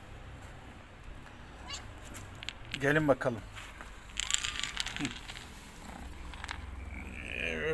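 Nearby cats meow a few times, with soft purring and rustling between calls while a person speaks briefly, as they are fed liver.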